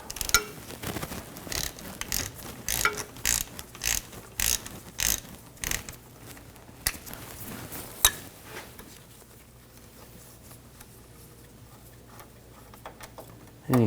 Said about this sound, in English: you can use a H14 socket, hex 14 millimeter. Take the fill plug out.